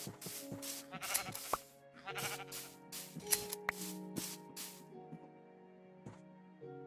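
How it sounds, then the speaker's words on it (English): Sheep bleat repeatedly in Minecraft VR, several clear, close cries spread across the stretch, with short noisy bursts between them. "there's more sheep here that I can turn into wool"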